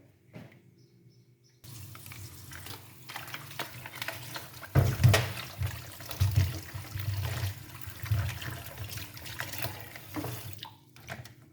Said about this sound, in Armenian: Այսպես, հիմա լավանան թափեմ, այս կարտոֆիլն ու սոխը ջրի մեջ է